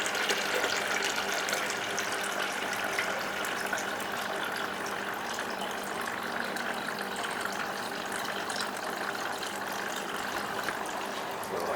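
Tap water pouring steadily into a 2.5 liter tank, a continuous broadband rushing hiss with no breaks, moderately loud and close, with no speech over it.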